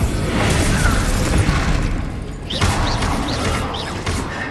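An Expulso spell blast in the video game Hogwarts Legacy, a loud, dense booming roar and crash of battle noise that swells, dips, then rumbles on with brief whooshing magical flourishes.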